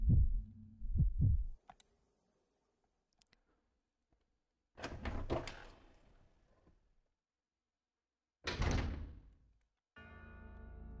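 A heavy door in Resident Evil 0 creaks and thuds open in a few low, dull bursts separated by silence, each followed by a fading rumble, then a steady low ambient tone at the end.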